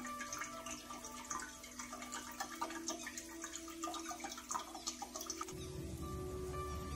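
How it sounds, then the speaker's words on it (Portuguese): Coconut water from a large green coconut pours into a blender jar, a steady trickling splash of liquid at close range that shifts to a fuller rushing fill near the end. "eu vou colocar a água do coco no liquidificador"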